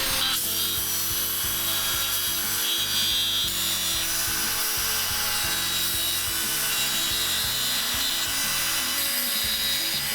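Dense, steady rasping and grinding of a gear-tipped rotary carving tool working into the deadwood of a shinpaku juniper bonsai, close and loud without a break, with no talking.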